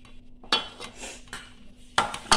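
Masala, salt and oil are mixed with a utensil in a bowl, making a few sharp metallic scrapes and clinks spread across two seconds, close and distinct in a quiet room.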